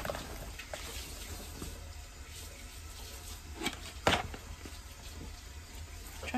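A Keurig coffee machine pours hot water for butterfly pea flower tea, a steady faint trickle running throughout with a few brief clinks and knocks over it.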